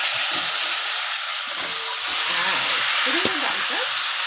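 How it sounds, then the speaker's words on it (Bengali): Mashed masoor dal sizzling and frying in a pan as it is stirred, a steady loud hiss with soft scraping underneath, close and continuous, with faint voice fragments. "এটাকে একটু নেড়ে নেব।"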